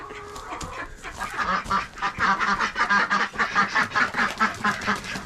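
Runner ducks quack repeatedly around a nest box during egg collection, a busy, rhythmic run of close nasal calls that grows louder and denser toward the end.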